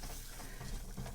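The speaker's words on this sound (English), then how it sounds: "we're just going to stir that in to the butter mixture" Flour is stirred into a butter mixture in a hot pan for homemade creamed corn, producing a brief, close, continuous stirring scrape over a soft sizzle.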